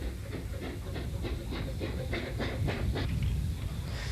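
A steam train pulls into a rural country station on the first day the line reopens to the public, its wheels clicking over rail joints in a regular rhythm beneath a low rumble and hiss, at moderate distance.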